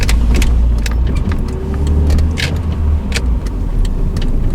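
A Honda Accord car engine with a fault, running steadily with a low rumbling drone and irregular light clicking or rattling on top, close and continuous with no speech.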